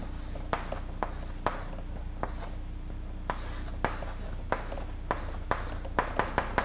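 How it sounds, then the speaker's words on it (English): Chalk or marker scratching and tapping across a board in a lecture setting while figures are drawn, with short strokes and sharp taps that quicken toward the end, close and clear over a quiet room hum. "By heavens, I happen to be good at drawing women."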